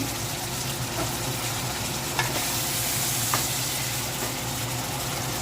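Beef heart frying in a pan gives a steady, close sizzle with occasional stirring scrapes and a few brief clicks, no voices.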